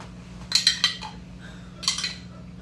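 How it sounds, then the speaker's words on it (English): A metal spoon scrapes and clinks a few times while pizza sauce is spooned onto homemade dough, short close taps in two brief clusters over a quiet steady hum. "So I have some spoon pizza sauce right on my dough."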